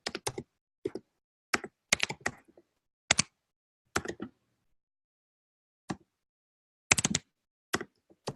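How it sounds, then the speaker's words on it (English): Slow, hesitant typing on a computer keyboard: scattered clusters of sharp, close keystrokes with long silent pauses between bursts, no voices. "You guys are all seeing that I'm the slowest typer on the planet."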